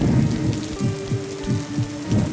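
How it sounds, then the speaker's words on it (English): Steady rain falling outside in the horror game Dementium: The Ward, heard as a continuous wash of drops, with low muffled thumps and a faint tonal hum mixed underneath. "So they like being out in the rain here."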